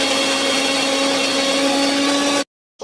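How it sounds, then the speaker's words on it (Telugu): A mixer grinder blending ingredients into powder, a loud, close, continuous motor whine with steady tonal hum and grinding roar that holds evenly and then cuts off abruptly. "ఇప్పుడు మిక్సీ అయితే చేయాలి."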